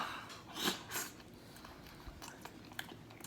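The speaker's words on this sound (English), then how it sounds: "Oh, this is going to be a big bite, y'all." A person takes a big bite of a food filled with red chili meat, two soft close bite sounds near the start followed by quieter chewing and mouth noises, faint, with no talking.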